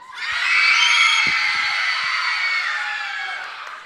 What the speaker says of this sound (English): on the count of 3, I need you to scream as loud as you've ever screamed in your life.